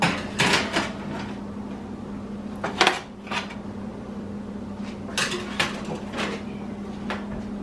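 Metal pans clank and an oven door knocks open and shut as glazed buns topped with black sesame go in to bake, with several sharp close clatters spread over a quiet kitchen hum.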